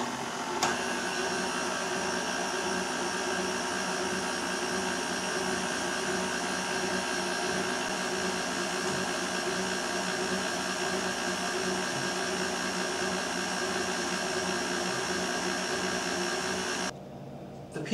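Electric mixer whisks egg whites and sugar for chocolate macaroons, a steady motorised whine with a constant buzzing hum that runs unchanged for most of the time before cutting off near the end.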